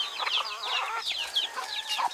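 Several chickens cluck and chatter close by, overlapping bursts of busy calls with no talking.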